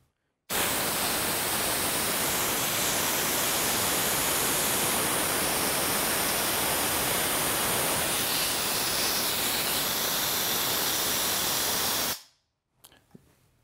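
CO2 purged from a paintball tank during filling from a bulk tank releases a loud, continuous rushing hiss that starts abruptly, holds for about twelve seconds and then cuts off sharply, followed by a couple of faint clicks.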